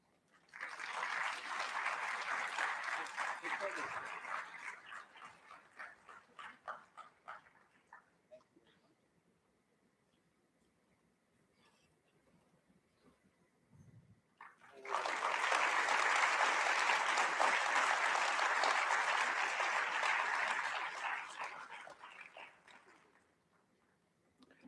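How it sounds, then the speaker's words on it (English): An audience at a management conclave applauds a speaker in two long rounds of dense clapping, separated by a quieter stretch of scattered claps. "another well-deserved round of applause for Mr. Augustus Azariah"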